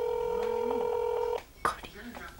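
A phone places a call, giving off a rapid run of dialing tones followed by a steady tone that cuts off, then a person starts talking.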